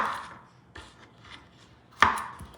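A knife chops through garlic on a board for Spanish garlic soup, a few sharp close cuts, the last one loudest, with no voices.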